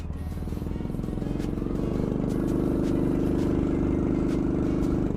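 Small Chinese mini tractor engine labouring uphill at full throttle, a loud, steady low chugging drone that builds and holds strong throughout with rattling mechanical clatter.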